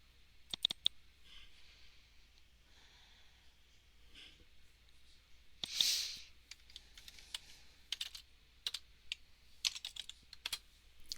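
Close, quiet clatter of typing on a computer keyboard comes in irregular bursts of sharp key clicks, with a brief louder rustle partway through and no talking.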